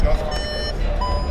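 Parking sensor beeping inside a VW T-Roc: a steady run of thin electronic tones over low engine rumble, fairly close, with a person talking.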